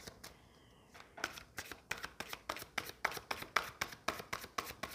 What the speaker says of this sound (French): c'est un peu compliqué de mélanger les cartes.